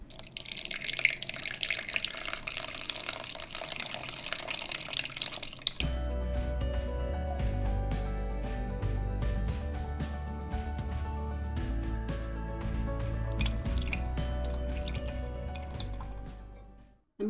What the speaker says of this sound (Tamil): இப்போ இதை வந்து ஸ்ட்ரெயின் பண்ணிக்கலாம்,